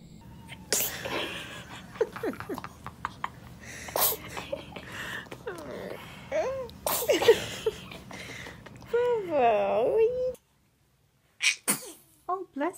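A baby sneezing several times in short, sharp bursts mixed with snorts, breaths and small vocal squeaks, close by, broken by a brief silence near the end.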